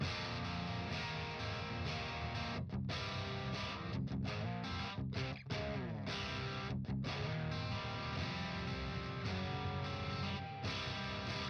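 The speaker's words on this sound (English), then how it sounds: "Let's just max out the gain knob here and see what it sounds like with the gain max." Guitar amplifier's clean channel pushed with the gain knob maxed, giving a thick, distorted sustained guitar tone with a few brief stops between strummed phrases, loud and continuous without voices.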